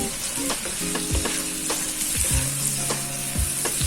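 Onion and garlic fry in a pan for a mushroom soup, giving a steady, close sizzle with stirring clatter and soft thuds throughout, and a faint low hum underneath.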